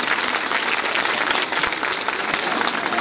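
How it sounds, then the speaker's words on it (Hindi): Dense audience applause at a school event honouring students and their teachers, a continuous close wash of many hands clapping at even loudness throughout. "उनके लिए इससे भी ज़्यादा भरपूर तालियां होनी चाहिए"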